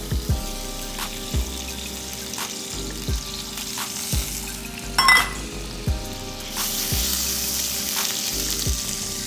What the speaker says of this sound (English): we're doing caramelized red onions. We're gonna go butter, olive oil